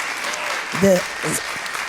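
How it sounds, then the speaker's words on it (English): An audience claps at a BIPOC climate justice dialogue, a dense wash of hand clapping lasting a couple of seconds with a voice speaking briefly over it. "I mean, you can clap for that."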